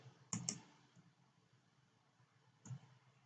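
A few faint computer mouse clicks while stepping through a Sitecore 9 installer on Windows 10: a quick double click, then a single click a couple of seconds later, close and quiet.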